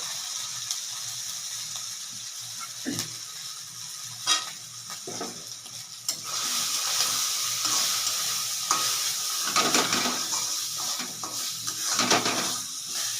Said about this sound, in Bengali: এটাকে ভালো করে তেলের মধ্যে ছাঁকলে কষাবো